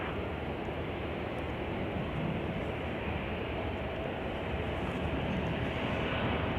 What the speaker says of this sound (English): We're gonna catch United Flight 714 from San Diego. Here it is.